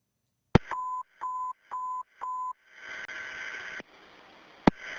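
EMS radio dispatch alert: four short, steady electronic tones in a row, each about half a second with brief gaps, followed by a hiss of radio static and a sharp click.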